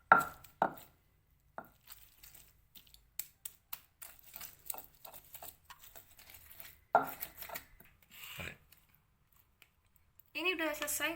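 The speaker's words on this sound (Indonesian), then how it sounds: "Kalau ini tuh gampang. Ya, kita ulek sampai halus ya," Fried spices for beef rendang are ground to a paste with a stone mortar and pestle, giving a run of close, dry tapping and scraping strokes in an irregular rhythm, with a few louder knocks and a brief voice near the end.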